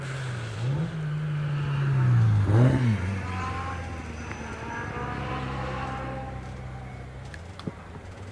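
A race car engine at a hillclimb at Harewood screams past, rising to a loud high whine and then fading into the distance as other engine noise drones on.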